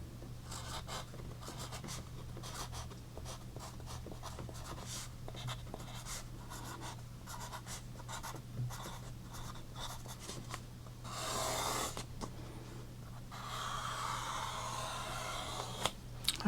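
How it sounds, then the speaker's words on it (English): Pen dragging across paper on a clipboard in close, quiet ASMR-style strokes, a soft steady scratching with small taps and rubbing sounds and a brief louder scrape near the end. "that was the straightest line I've drawn yet"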